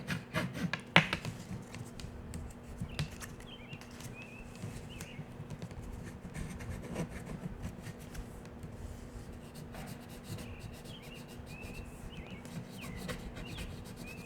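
Folded cardstock tabs on a paper treat box are burnished, making a steady soft rubbing and scraping that runs throughout at low volume, with a few light taps.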